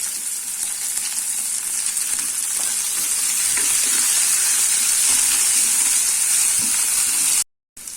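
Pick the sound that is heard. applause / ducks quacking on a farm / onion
onion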